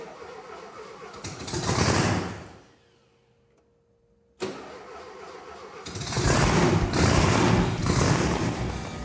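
A Volkswagen-powered dune buggy engine fitted with a blower cranks briefly, falls quiet, then fires and settles into a loud, raspy idle with revving that carries on to the end.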